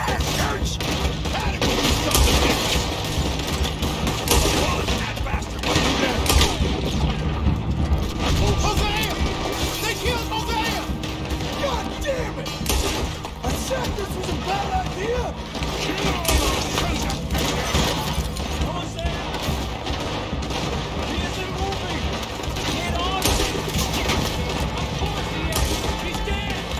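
A chaotic shootout in Red Dead Redemption 2, with dense, continuous gunfire, shattering glass and crashes filling the whole stretch and shouting voices mixed in.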